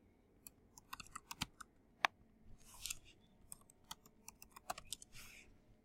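Login details typed on a computer keyboard, a quick irregular run of sharp key clicks with brief pauses between bursts, close and fairly quiet, with no talk.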